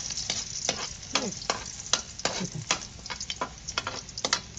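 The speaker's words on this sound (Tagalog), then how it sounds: "Magigisa na po si tita. Muna ang bawang." Garlic sautéing in a pan for Filipino ginisang ampalaya with shrimp, a steady close sizzle broken by repeated scraping stir strokes at an irregular rhythm, with no talking.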